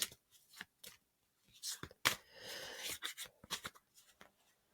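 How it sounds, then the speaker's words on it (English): Quiet riffling and flicking of a deck of tarot cards being shuffled in a few short bursts, close up, with soft pauses between. "I'll do another shuffle."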